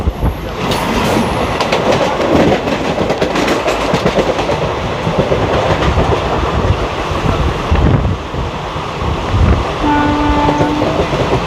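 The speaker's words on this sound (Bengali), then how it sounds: "Ranchi Howrah intercity express." The Ranchi Howrah Intercity Express passenger train rumbles past nearby with loud rolling clatter and wheel noise, a brief horn blast near the start and another toward the end.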